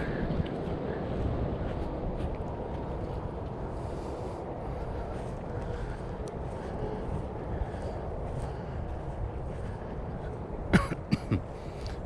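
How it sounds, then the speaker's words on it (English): A person coughs a few times close to the microphone at the end of a November walk through a nature preserve, the brief bursts standing out over steady wind and outdoor rumble. "Pardon my cough."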